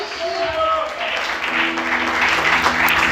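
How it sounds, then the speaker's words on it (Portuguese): A church congregation applauds steadily through an evening service, a dense continuous patter with faint sustained tones underneath. "aplauda o nome do Senhor nessa noite"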